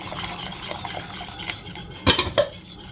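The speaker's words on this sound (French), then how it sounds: "Il faut bien mélanger" Cornstarch being stirred into cold milk with a utensil in a pot for a homemade dessert cream, soft repeated scraping strokes, then two sharp metallic clinks against the pan near the end.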